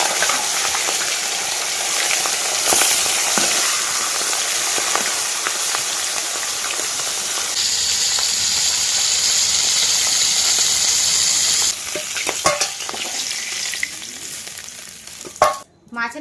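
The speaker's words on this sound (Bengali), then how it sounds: "প্রথমে মাথা দুটো ভেজে নেব।" Two salted, turmeric-rubbed fish heads frying in hot oil over a village cooking fire, a loud steady crackling sizzle for most of the time, thinning out near the end with a few knocks and clatters.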